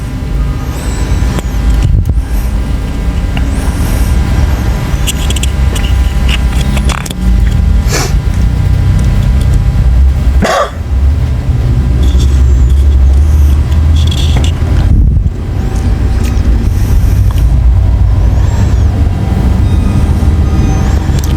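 Large, heavily loaded trucks and cars pass on a rough road between Simelinang and Paranap in Riau, a continuous loud rumble of engines with several vehicles rolling by close up and occasional sharp passing swooshes.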